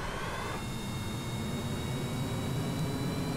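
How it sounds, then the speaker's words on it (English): Powerful jet engines at full throttle on a long, heavy Beluga-style plane in Kerbal Space Program, a continuous loud roar with a steady high whine, unbroken throughout. "I forgot I put powerful jets on this thing."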